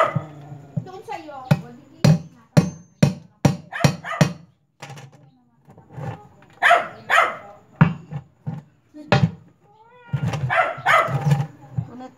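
A dog barks in sharp repeated bursts, close by, alongside cat-like whining and yowling cries, with pauses between flurries.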